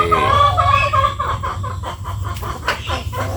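Chickens cluck and chatter nearby in quick, overlapping bursts, with a low steady hum of background noise underneath.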